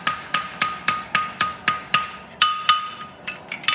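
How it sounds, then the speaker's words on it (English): A hammer strikes a horseshoe on an anvil in a farrier's forge, about a dozen sharp ringing metallic blows in a steady rhythm, close and loud, with no talk. "don't forget to box it off with your hammer a little bit"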